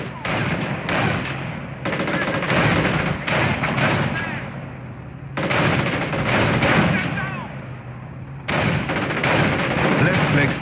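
Enemy infantry gunfire in Company of Heroes, a 2006 PC game, comes as dense, loud bursts of rifle and machine-gun fire with heavy thuds, repeating in waves over the whole stretch.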